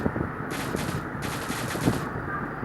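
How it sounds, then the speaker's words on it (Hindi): Rapid bursts of automatic gunfire in a GTA-style video game, heard as two fast volleys of cracking shots over a steady game background, fairly close and loud with no talk. "एक चीज़ दिखाऊं, पट्टे से हेडशॉट, डायनामो के आशीर्वाद से"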